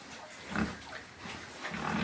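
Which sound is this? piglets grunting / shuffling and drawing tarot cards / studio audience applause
piglets grunting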